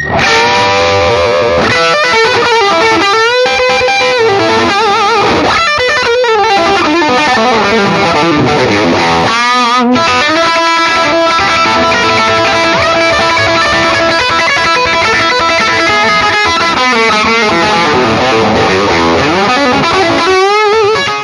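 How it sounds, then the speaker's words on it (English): Electric guitar through a Vox AC30 amp with an overdriven, distorted tone, loud and continuous, with sustained chords and bending notes that rise and fall, played alone without talk. "For fatter, more distorted tones, set the master lower and raise the normal or top boost volumes"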